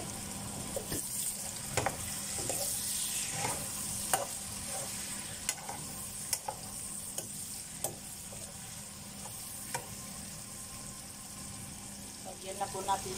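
Baguio beans stir-frying in a pan, a steady close sizzle broken by regular clinks and scrapes of a utensil against the metal, with quiet speech underneath.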